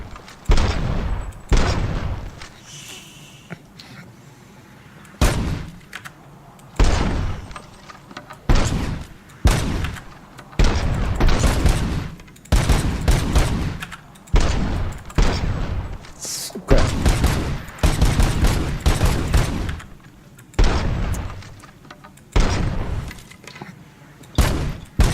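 Loud gunshots at targets in Robocop: Rogue City ring out in irregular bursts and volleys, with short pauses between rounds of firing.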